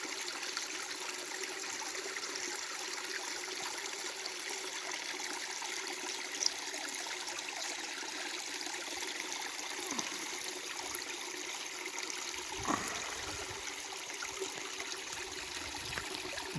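A creek below a hillside flows with a steady, soft rushing and trickling that stays faint and even throughout, with a brief low thump partway through.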